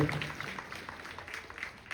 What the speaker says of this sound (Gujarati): બધા જોરદાર તાળીઓથી એમનું પૂજન કરો